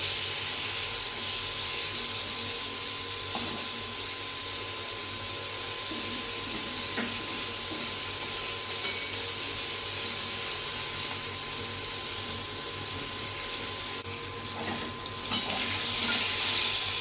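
Pieces of pointed gourd (potol) fry in a pan until reddish, a dense, constant hiss with faint crackling that holds steady for the whole stretch and rises slightly near the end.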